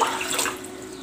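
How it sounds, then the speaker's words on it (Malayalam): Soaking water from navara rice is poured into a cooking pot for karkidaka kanji, a brief, close splashing trickle that fades over about a second. "ഞാൻ നവര അരി വെള്ളത്തിലിട്ട കുതിർക്കാനിട്ട വെള്ളം തന്നെ ഇതിലേക്ക് ഒഴിച്ചു കൊടുക്കുന്നുണ്ട്."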